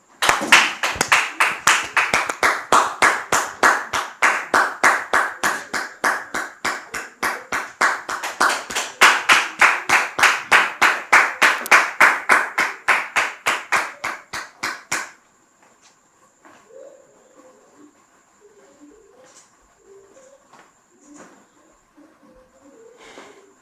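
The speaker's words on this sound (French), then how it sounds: "Sous vos applaudissements, s'il vous plaît" Audience applause after the introduction of M. Toby Stéphane and his brother's wife, heard as rhythmic, loud, unison clapping for about fifteen seconds before stopping abruptly, followed by faint scattered sounds.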